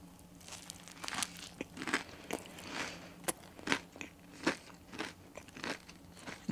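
Close crunchy bites and chewing of crispy fried chicken, a series of sharp crackling crunches spread over several seconds with no talking.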